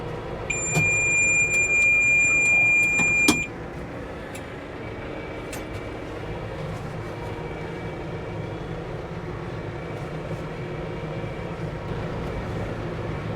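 A Case IH Maxxum 125 tractor rumbles steadily nearby while backing a trailer away, with a louder, busier stretch in the first few seconds before settling into an even, continuous drone.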